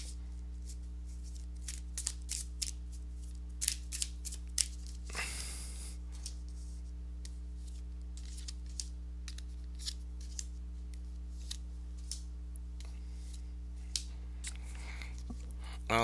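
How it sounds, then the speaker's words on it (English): A deck of tarot cards is shuffled, giving scattered soft clicks and snaps with one brief riffling burst, all quiet over a steady low electrical hum. "let me go ahead and give these cards a shuffle"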